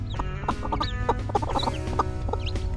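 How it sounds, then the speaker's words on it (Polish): Busy chorus of high peeps and chirps from six young chicks, with a brooding hen's soft clucking beneath, continuous and close without any talking. "Jest tutaj sześć kurczaków"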